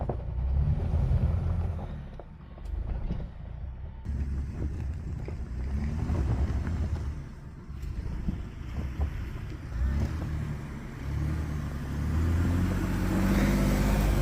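Several vehicles climb a hill, their engines rumbling low and uneven with rising and falling intensity, buffeted by strong wind noise on the microphone.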